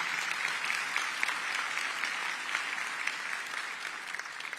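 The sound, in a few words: audience applause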